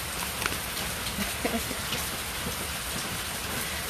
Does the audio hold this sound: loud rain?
yes